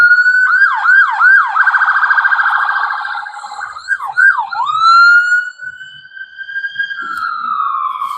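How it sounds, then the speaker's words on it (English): A wailing ambulance siren sweeps up and down in rapid yelps, then settles into a long steady tone, loud and fairly close. "The siren."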